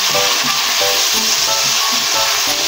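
Ginisang ampalaya, bitter melon sautéed with a splash of soy sauce, sizzles steadily in a hot pan while a utensil stirs it, scraping in repeated strokes at close range.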